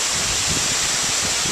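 Waterfall heard from close by on a lush green hillside, a loud, unbroken roar of rushing water that fills the whole moment with dense, steady noise.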